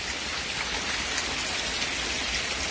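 Rain falls steadily on surfaces, a dense, even patter that fills the whole stretch at moderate volume, with no voices.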